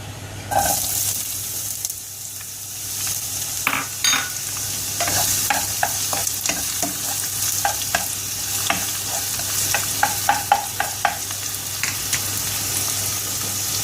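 Onion frying in a little cooking oil in a pan, a steady sizzle with scattered scraping taps from stirring throughout, close and moderately loud, with no talking.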